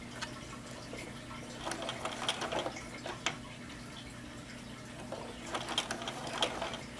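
A sewing machine stitching a fabric potholder, slowing toward a corner, gives faint, sparse mechanical ticks and clicks over a low, steady motor hum.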